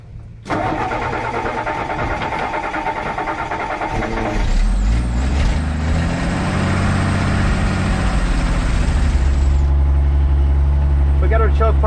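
A 1962 Ford F600 truck cranks over for several seconds with a rhythmic starter churn, then catches and settles into a loud, steady, low idle, recorded close.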